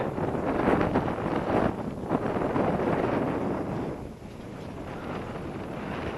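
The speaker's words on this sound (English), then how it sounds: "Come on, wind. Come on, wind. Keep blowing." Strong wind gusting across an open field during a model glider flight, a continuous loud roar and buffeting on the microphone that eases slightly toward the end.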